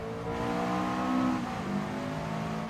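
A Subaru Impreza WRX STI with a 2-liter turbocharged flat-four engine, 274 horsepower, revs and shifts on a wet Red Bull Ring in Gran Turismo Sport, a close, steady engine note that rises, dips briefly, then climbs again, with no talking.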